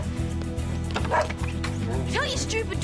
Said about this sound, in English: Tell your stupid dog to leave us alone.